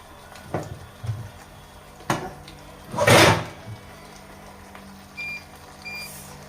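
A cooking pot lid is pressed shut during oven-free tandoori chicken cooking, giving several sharp metallic knocks and clatters, one longer scraping rattle in the middle, then a few faint clicks.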